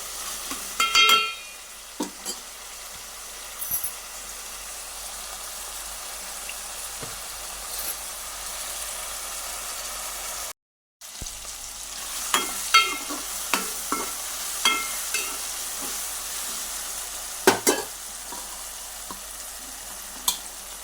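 Chopped tomatoes sizzle in a pan as a curry of broad bean pieces is cooked, with a continuous frying hiss, repeated scraping stirs and clinks, close up and with no talk.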